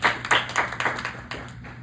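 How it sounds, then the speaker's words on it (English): Scattered claps from a small audience at a lightning talk during a developer community gathering, a short, sparse burst of distinct hand claps that tapers off within two seconds. "Let's get a round of applause."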